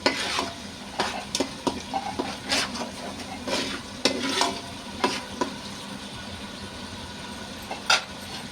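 Ginger paste, onions and green chillies fry in hot oil in a pan while being stirred, steady soft sizzling broken by sharp scraping clicks of a spoon against the pot, no talking.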